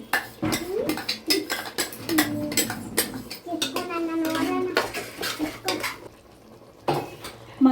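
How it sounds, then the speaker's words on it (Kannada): Masala paste being fried in oil and stirred for a green vegetable palav, with a metal spoon clattering and scraping against the pan in an irregular rhythm over a low background sizzle, close and fairly loud. "ಮಸಾಲೆ ಹಸಿ ವಾಸನೆ ಹೋಗೋದಂತ ಫ್ರೈ ಮಾಡ್ಕೊಂಡು ಎಣ್ಣೆ ಬಿಡಬೇಕು."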